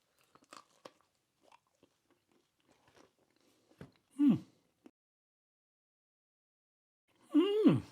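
Someone biting and chewing freshly baked no-knead soda bread, with sparse soft crunches and mouth sounds close up, plus two brief voiced breaths or murmurs.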